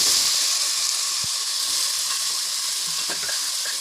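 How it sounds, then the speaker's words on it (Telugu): Grated pumpkin pieces fry in a pan, giving a steady, close hiss and sizzle throughout with a few faint stirring clicks, and no voices. "తురుము పెట్టిన గుమ్మడికాయ ముక్కల్ని పీసుల్ని అలా వేయించుకోవాలన్నమాట"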